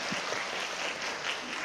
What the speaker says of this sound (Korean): 응원의 박수 한번 부탁드립니다.